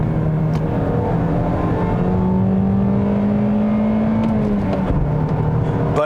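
A 2021 Toyota Corolla Apex four-cylinder engine buzzes steadily and loudly, its drone rising slightly in pitch as revs build past 4,000, then easing back.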